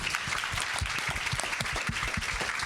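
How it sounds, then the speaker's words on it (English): An audience applauds panelists at a youth peace and security event, a dense, steady wash of many hands clapping that holds for the full stretch without talk. "a big round of applause for all our panelists"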